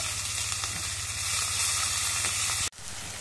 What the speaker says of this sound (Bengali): তেলের মধ্যে দিয়ে ভাজে নেই।